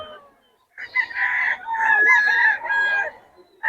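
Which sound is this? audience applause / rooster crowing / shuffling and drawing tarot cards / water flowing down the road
rooster crowing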